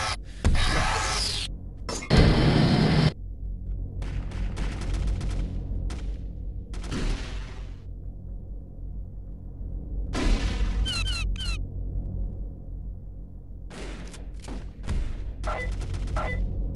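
Mag 60 gunfire in the PC video game Turok 2 during an online multiplayer match, sharp loud shots in short clustered bursts with pauses between, no talking.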